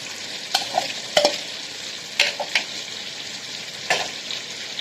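Fried okra and nearly cooked potatoes tossed together in a hot pan, a soft background sizzle punctuated by several sharp spatula scrapes and knocks at irregular intervals, close by with no talking.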